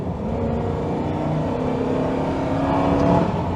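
A 2001 Ford Crown Victoria with a V8 engine accelerates on a UK national speed limit road, heard from inside as a loud, steady engine drone that rises slightly as it pulls.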